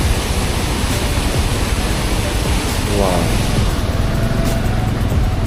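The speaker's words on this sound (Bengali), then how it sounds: "এখানে আবার একটা ঝর্ণা বয়ে যাচ্ছে" A stream of water flowing down from a mountain waterfall in Arunachal Pradesh, a steady, loud rushing hiss that never breaks, with a voice briefly audible under it.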